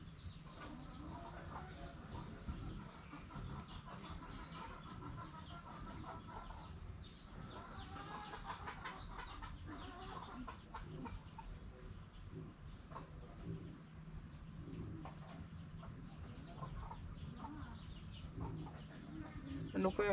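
A sick chicken that has been vomiting up water makes faint, soft clucks against a low, continuous background.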